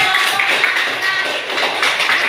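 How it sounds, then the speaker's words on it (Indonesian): Students in a class clap their hands together, a continuous, fairly loud patter of many hands that stays even for about two seconds with no break. "Iya, tepuk tangan dulu."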